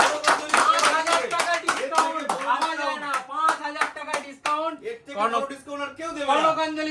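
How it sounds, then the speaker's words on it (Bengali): People clap their hands in a mobile phone shop during a Puja festival discount sale; the claps sit mostly at the start, partly buried under loud, continuous talking. "সকলে হাততালি"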